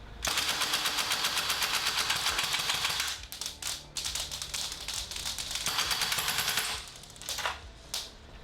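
A GHK AKM V2 gas blowback airsoft rifle emptying a magazine in long rapid bursts, its sharp mechanical clatter cycling fast and loud for about three seconds, then broken briefly before another sustained string, close by with no speech.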